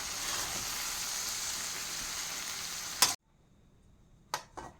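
Green chillies and small garlic cloves frying in a pan, a steady bright sizzle that runs for about three seconds before cutting out, followed by a few short crackling bursts.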